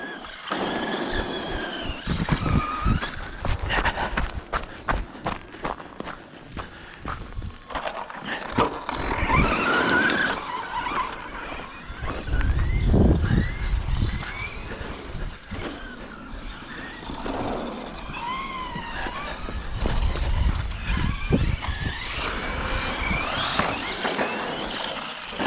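ARRMA 4S V2 Kraton or Outcast radio-controlled car driving on a sloped outdoor track, whining electric motor bursts that rise and fade as it accelerates and passes, with intermittent gravelly skids and rushes across a long run.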